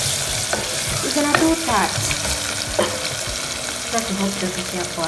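Ginger fries and sizzles in a pot of browned onions for Kenyan beef pilau, with a spoon scraping and stirring through it; a brief spoken remark sits over the steady crackle.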